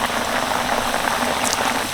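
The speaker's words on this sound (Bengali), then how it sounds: "বাকি পিঠেগুলোও আমি একইভাবে ভেজে নেবো" Sooji puli pitha fry in hot oil in a wok over high flame, giving a dense, even bubbling crackle that stays loud and close throughout.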